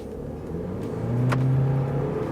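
A Ford Fusion in sport mode accelerates across the Bonneville Salt Flats, its engine note rising steadily in pitch and loudness as it pulls away, heard from inside the car.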